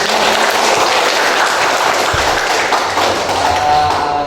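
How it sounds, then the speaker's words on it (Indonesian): A classroom of history students claps together in sustained, dense applause, loud and steady throughout with a faint voice or two underneath. "Dan tepuk tangan."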